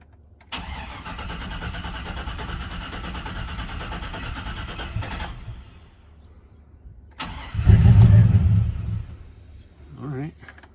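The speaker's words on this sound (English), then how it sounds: "let's start the truck and look for drips" A Chevrolet Silverado truck's engine cranks and runs at a steady idle for several seconds, stops, then turns over again with a louder low rumble. It sounds close.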